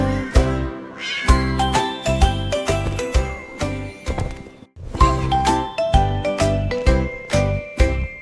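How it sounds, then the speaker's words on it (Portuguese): A cat meows repeatedly through a cheerful children's song, the meows set over steady music with jingling, tinkling accents and brief pauses. "Os bigodes do gato fazem miau, miau, miau, miau."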